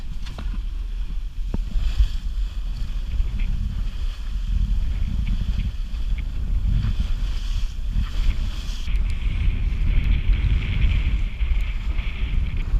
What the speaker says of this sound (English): She's flying.